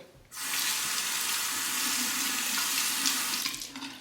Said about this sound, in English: Let's rinse it.